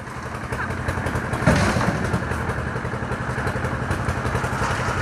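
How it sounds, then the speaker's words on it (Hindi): A concrete mixer unloads concrete into a tractor trolley at a road shoulder construction site, its engine chugging in a steady close clatter, with a heavy thud partway through. "कंक्रीट की मिक्सर से ट्रैक्टर में अनलोड करेंगे"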